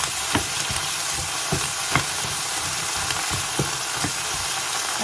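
Green beans fry in hot oil with curry paste in a pan, a loud continuous sizzle broken by regular scraping knocks of stirring, heard up close with no talking.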